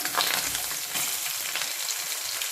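Onions frying in a pan, a steady close sizzle with crackling bursts running the whole time at a fairly even loudness, no voices.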